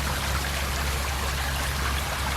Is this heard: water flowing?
yes